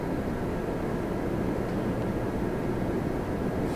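A departing airliner at Toronto Pearson airport gives a steady, broad roar of jet noise at constant loudness, with no voices.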